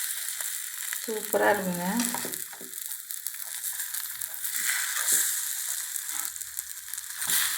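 Egg and eggplant fry in a pan on a stove, giving a steady, close hissing sizzle with a few stirring scrapes, and a voice speaks briefly.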